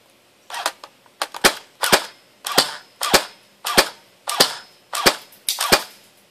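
A Matrix X36C airsoft gun running on an 8.4V mini battery fires BBs in about nine quick bursts of sharp cracks, each cluster close and loud, with no talking over them.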